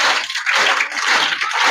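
Audience clapping at a school prize-giving for an art festival and science exhibition, a dense, steady patter of many hands held for nearly two seconds with no voices.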